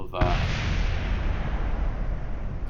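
Missile blast in Kerbal Space Program: a sudden loud boom lands early, then a dense roaring rumble rolls on steadily for the remaining seconds, with no voices over it.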